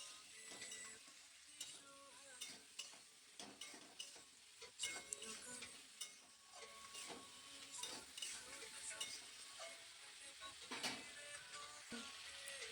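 A spatula scrapes and taps through potatoes and kohlrabi frying in oil with salt and turmeric, with a faint sizzle underneath and irregular stirring strokes spread over several seconds.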